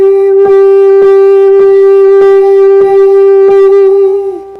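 A woman sings a repeated high falsetto "wee" on one sustained pitch, with about seven clear pulses in a steady rhythm, close and loud with no accompaniment.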